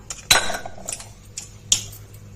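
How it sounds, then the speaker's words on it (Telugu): A cooled stovetop pressure cooker lid is lifted off after boiling potatoes, giving a few sharp metallic clanks and scrapes of metal on metal with quieter rattles in between, close and fairly loud. "నేను ఇప్పుడు మూత తెరుస్తున్నాను."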